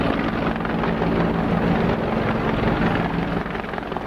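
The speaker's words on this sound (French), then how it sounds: "Alors là j'ai eu dans l'espace aérien le passage d'un hélicoptère." Helicopter flying over Rome, a steady loud rotor and engine roar that holds throughout and eases slightly near the end, with no voices.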